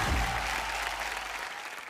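Audience applause at the Star Dust Awards 2017 show, a broad, steady wash of clapping from a large crowd that holds evenly and then thins toward the end, with no voices over it.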